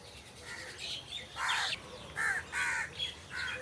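Crows cawing among trees, several harsh caws in separate bursts at moderate distance, with faint background birdsong between calls.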